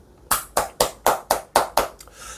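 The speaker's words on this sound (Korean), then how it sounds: "박수!" About seven crisp hand claps in a steady rhythm, close and fairly loud, with no voices over them.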